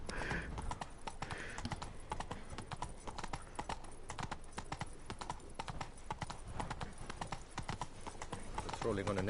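Roach the horse galloping in Witcher 3, a close, continuous rapid clip-clop of hooves, with a voice talking over it at times.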